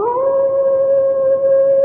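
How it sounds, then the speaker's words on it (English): A single long, eerie howl from a hound on a moor carries loud and sustained, holding a steady mournful pitch for about two seconds with no other sound. "They say it's the cry of the hound of the Baskervilles"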